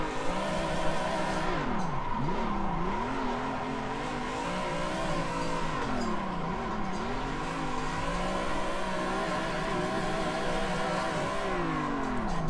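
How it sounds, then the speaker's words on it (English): BMW engine screaming at high revs in Assetto Corsa during drifting, a continuous loud whine with pitch sweeping up and down through gear changes and throttle blips, steady for over twelve seconds with no talk. "I can hear the power in that BM. I just hear it behind me."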